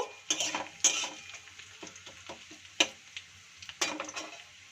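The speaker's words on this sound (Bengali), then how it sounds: "এবার আদা রসুনটাকে সামান্য একটু ফ্রাই করে নেব।" Sliced ginger and garlic fry gently in a pan, a soft sizzle under intermittent clinks and scrapes of a spatula against the metal, close and moderately quiet, with no talking.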